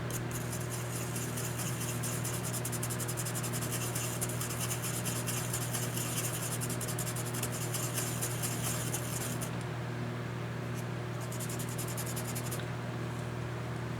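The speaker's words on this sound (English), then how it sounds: "use our sanding pen here, actual fiberglass pen, and scrape off the coating here" A fiberglass sanding pen scrapes the coating off a circuit board during an arcade monitor repair, giving a steady, close scratching hiss with brief pauses, heard alone without talk.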